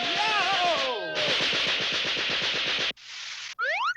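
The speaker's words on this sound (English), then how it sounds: "This is a Gatling gun." A cartoon Gatling gun lets loose a loud, rapid stream of shots, nearly two seconds of evenly spaced bangs, after a brief shout and before short bursts of other cartoon effects.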